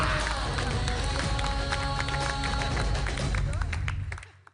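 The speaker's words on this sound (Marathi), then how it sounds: "जोरदार टाळ्या" A studio audience at a Marathi TV variety show bursts into dense, steady applause and cheering that holds for about four seconds, then fades away at the end.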